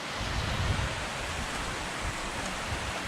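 A waterfall at river cliffs, partly buried under heavy fill, produces a continuous rushing roar, steady and moderately loud with no voices.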